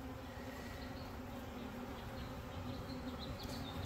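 Honey bees buzz steadily around an open hive as a paint-marked queen is released into it, a dense continuous hum up close with no voices.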